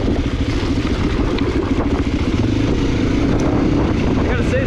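An XR400 dirt bike with upgraded suspension is ridden off-road, its engine droning loud and steady with wind noise throughout.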